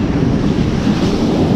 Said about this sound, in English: That swell is unreal. There is so much water